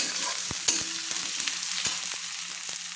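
Chicken pieces sizzle in a pan as red chilli powder is worked in, a constant close hiss punctuated by sharp scrapes and knocks of a spoon against the pan, no voices.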